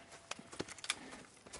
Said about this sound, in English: I've been meaning to offload this big Shire horse for a while now.